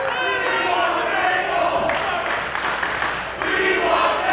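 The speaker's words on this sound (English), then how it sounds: "the crowd is chanting, "We want tables,"" Wrestling arena crowd at a women's brawl event chanting in unison, a dense, loud, sustained wall of voices filling the space throughout.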